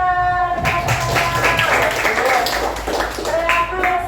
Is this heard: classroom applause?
yes